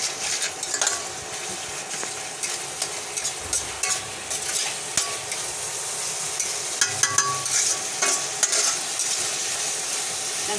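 Spice paste of ground cumin, garlic and a little dried chilli frying in oil in a pan, a steady close sizzle with occasional scrapes and stirring clinks, no talk.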